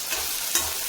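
Mustard seeds and onions frying in hot refined oil, a brief burst of close, steady sizzling with a couple of light stirring clicks.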